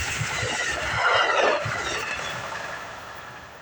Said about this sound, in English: Early running Amtrak train 8, the Empire Builder approaches.